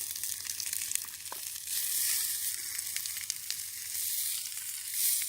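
Food cooking slowly in a pan on a camp stove at a tarp campsite, a steady close sizzle with faint crackles and soft scrapes, continuous and unaccompanied by speech.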